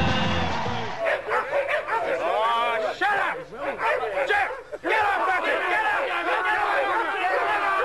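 Several dogs bark and yelp in a loud, overlapping chorus at close range, a ragged burst of barks that briefly dips before surging again.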